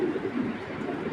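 Racing pigeon from an Olympic bloodline cooing softly, a low steady murmur of bird sounds running continuously through the short moment with no talk.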